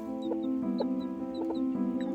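Pet chick cheeping in a garden: a few short, high-pitched peeps scattered over a steady tonal hum, close and fairly clear, with no voices.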